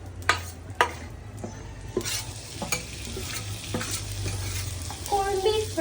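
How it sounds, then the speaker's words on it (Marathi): Prawns fry in oil in a home-kitchen pan, a steady close sizzle running throughout with several sharp stirring clatters and scrapes of a utensil, the frying growing busier near the end. "कोळंबी फ्राय."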